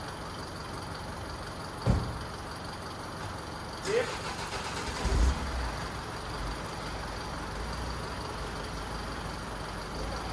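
A Mercedes Sprinter chassis cab pulls away, its engine rumbling under a steady background of idling noise with a few low thumps and surges, while a voice briefly speaks.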